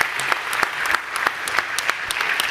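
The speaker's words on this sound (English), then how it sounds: "So please give a round of applause to Jones Junction and the amazing" An audience at an education awards celebration claps in dense, continuous applause, many hands at once forming a close, even patter from start to finish.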